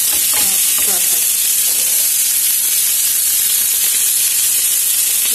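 An Irish club steak fries hard in a pan with garlic and rosemary, giving a loud, continuous, close sizzle and hiss with no one talking.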